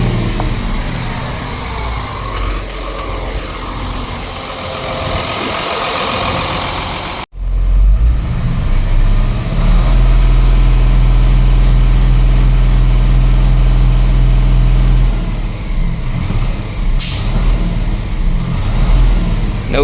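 A Cummins diesel truck engine, run after sitting in storage for years, idles with a loud, steady low rumble; a brief gap in the sound is followed by an even heavier, constant idle.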